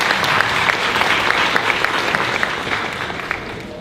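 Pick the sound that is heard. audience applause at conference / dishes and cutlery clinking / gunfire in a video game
audience applause at conference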